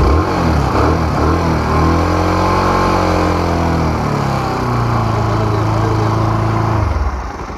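A Bajaj Pulsar 160 NS motorcycle engine idles loudly and steadily, then the note sags and wavers as the carburetor runs out of fuel, and the engine dies near the end.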